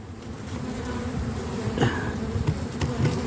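Honeybees swarm around a hive entrance in an apiary, a constant close buzzing drone with individual bees whizzing past nearby.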